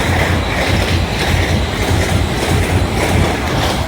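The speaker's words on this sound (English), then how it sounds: "You get track joint sounds as well." Train rolling past on the East Coast Main Line at Doncaster, wheels beating a steady rhythmic clickety-clack over track joints, loud and close with a continuous low rumble and no talk.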